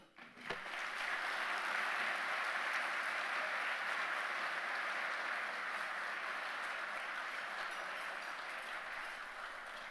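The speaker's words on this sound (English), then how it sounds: "Please join me in a round of applause and congratulate our 2025 Campus Advisor of the Year, Dr. Francisco Lugo." Audience applauding at an awards presentation for the 2025 Campus Advisor of the Year, a dense, even roar of clapping that swells quickly after a brief thump and holds steadily throughout.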